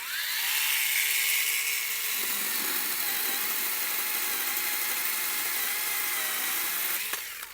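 A Procraft PKA16 cordless mini saw cuts through wood with a loud, steady high-pitched whine and buzzing that carries through the cut. Near the end it briefly changes pitch as the blade finishes.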